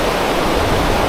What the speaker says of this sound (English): It's like a torrent down there. Really strong river.